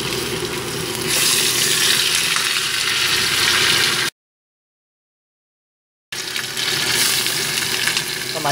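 Grass carp pan-fries in hot oil in a wok, giving a loud, steady, close sizzle that breaks off into a brief silence midway, then resumes just as strongly.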